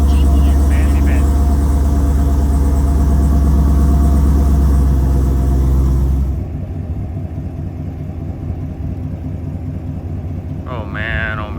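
A Chevrolet Camaro engine runs with a loud, deep idle that drops to a quieter, lower rumble partway through, heard close by, with a brief chime or beep near the end.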